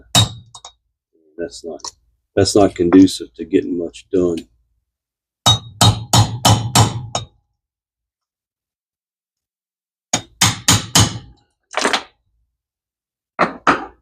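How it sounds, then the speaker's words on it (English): Sharp metallic hammer clangs ring out in quick clusters separated by silence as a hammer strikes a vintage Zebco 600 fishing reel during repair to loosen a part, with someone speaking between strikes. "My hand gives on every strike of the hammer."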